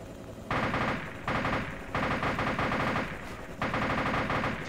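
Automatic ground gunfire in the DayZ video game rattles in sustained bursts, four long volleys of rapid shots separated by short gaps, loud and steady with no talk over it.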